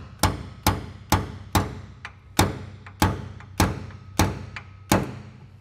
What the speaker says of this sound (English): I actually have a punch here, and so I'm gonna just throw a little dimple in there